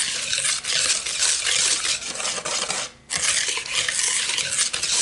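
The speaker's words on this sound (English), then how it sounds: "all I want to do is whisk my dry ingredients together, just making sure that they're all combined" Flour and sugar are whisked together in a large mixing bowl, giving steady close scratchy swishing with a rapid rhythm that pauses briefly near the end before resuming, with no voices.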